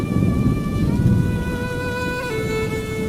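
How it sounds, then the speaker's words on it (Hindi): Heavy rain pours down in a dense, continuous rushing roar with a low rumble beneath it, while steady tonal hums from dramatic background music run over the top throughout. "इतनी बारिश हो रही है"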